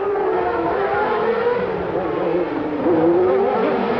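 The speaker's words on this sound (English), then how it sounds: "A Japanese V10 engine in a British car, followed machine with a French V10 engine." Formula One cars at the 1991 Monaco Grand Prix, a Japanese V10 in a British car followed by a French V10, give a loud, sustained high engine whine that climbs in pitch near the end.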